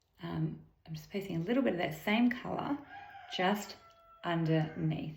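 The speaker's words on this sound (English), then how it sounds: "I'm not sure if you can hear that rooster in the background." A rooster crows in the background while a person talks steadily at close range over it; the crow is a faint, drawn-out call rising behind the voice partway through.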